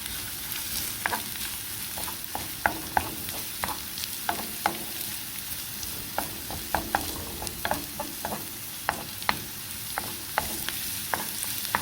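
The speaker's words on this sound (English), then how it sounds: "So I'm going to hit the frying pan with all three and saute." Onions and garlic sizzle steadily as they saute in a frying pan while a utensil stirs and scrapes with frequent light clicks, close up.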